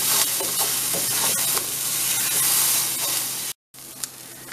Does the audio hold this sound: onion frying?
yes